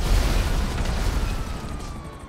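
Explosion from a guided missile fired by a Buzzard attack chopper in GTA Online, a loud rumbling boom that rolls on and slowly fades, with a faint siren tone in the background.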